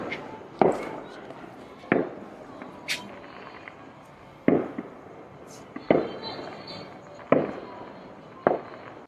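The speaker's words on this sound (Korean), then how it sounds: "아니 갑자기 폭죽이 터지네." Fireworks go off suddenly outdoors in Mexico as a series of sharp bangs, about seven evenly spaced pops, some distance away, with people talking in between.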